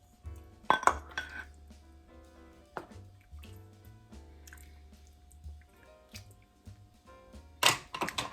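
Toasted quinoa soup is ladled into a hot bowl, with a ladle clinking and scraping against a pot, soft drips and pours between the sharper metallic knocks, close and fairly quiet.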